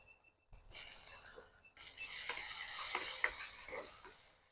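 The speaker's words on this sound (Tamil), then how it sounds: "வெங்காயமும் நல்லா வதங்கும்" Onions and garlic sautéing in a pan with fennel and fenugreek seeds for a Tamil-style potato curry, a steady broadband sizzle with scraping stir strokes and occasional clinks, loud and close with no talking.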